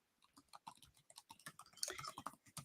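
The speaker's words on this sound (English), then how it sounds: "And I started typing that" Quick, irregular keystrokes on a computer keyboard clatter up close, with bursts of clicks that speed up and grow busier midway, and nobody talking.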